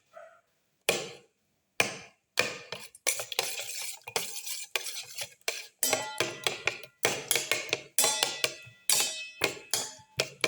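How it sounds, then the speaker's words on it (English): Tomato pieces being crushed and stirred in a pan make a steady run of close scraping, tapping strokes from a utensil, at first spaced out and then coming in quick, busy bursts. "Crush the tomato pieces by mixing."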